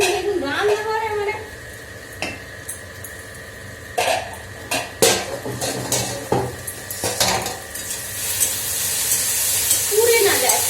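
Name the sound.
potatoes frying in a pan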